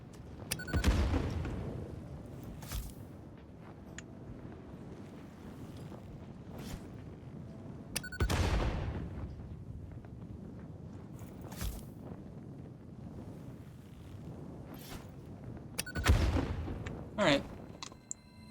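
Heavy explosions from carpet bombing in the video game Satisfactory: three deep, booming blasts land roughly eight seconds apart, each trailing off into a low rumble with faint noise in between.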